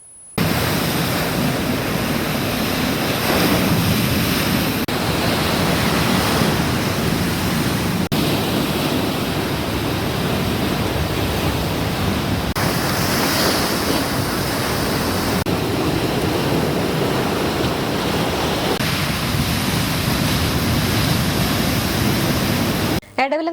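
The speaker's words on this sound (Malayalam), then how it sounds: "മഴ കനത്തതോടെ കൊടുങ്ങല്ലൂരിന്റെ തീരമേഖലയിൽ കടലാക്രമണം തുടങ്ങി" Heavy sea surf surging against the coastline at Kara Vakkadappuram, Kodungallur, during heavy monsoon rain and rough seas, a steady loud broadband roar of crashing waves and rain lasting throughout without voices.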